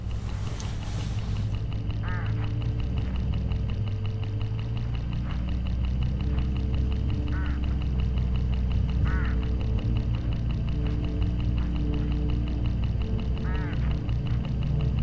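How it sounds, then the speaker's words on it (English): Hooded crows along a road in the video game Hitchhiker, heard as a few short, harsh caws spaced out over a steady low rumble of game ambience, with no talking. "Look, hooded crows all along this road."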